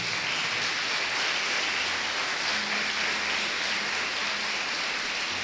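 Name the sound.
congregation applauding in church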